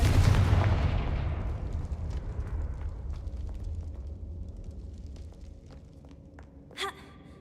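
A Confringo fire spell blast in Hogwarts Legacy bursts loudly at the start and rumbles away over several seconds, followed by a brief sharper crack near the end, with no talk over it.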